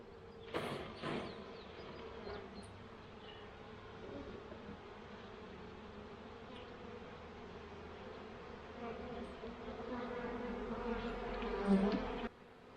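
Honey bees buzz steadily inside a queenless cell builder hive packed with nurse bees, a close, dense hum with a few louder passes near the start and a swell toward the end, no talking.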